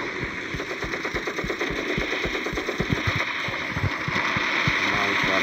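Rapid machine-gun fire from the Gunship Battle video game rattles in fast, continuous bursts, loud and close, with game effects layered around it.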